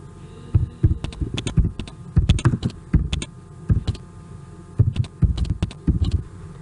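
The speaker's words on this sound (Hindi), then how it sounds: "ट्रेन का नाम हम यहाँ पर टाइप करते हैं।" A computer keyboard is typed on in quick bursts of clicking keystrokes, several clustered runs separated by short pauses, close and crisp over a faint steady hum with no talking.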